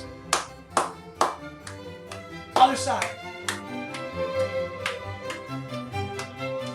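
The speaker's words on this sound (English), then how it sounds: "now we're going to clap" Hands clap a steady beat along with music in a children's music lesson, sharp regular claps over a melodic backing, while a voice gives directions.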